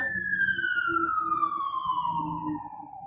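A fire truck siren passes outside, a loud tone sweeping slowly downward over low traffic rumble.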